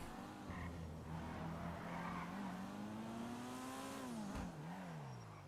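Transform cars in a video game drive with whining engine tones that rise and dip as the tires skid and squeal, loud and steady across the whole stretch.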